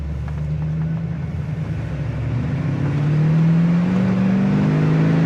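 A 1979 Chevrolet Camaro Z28 V8 running on the road, a steady engine drone that climbs in pitch as it revs, about 3,500 RPM, then shifts into third and pulls harder and louder.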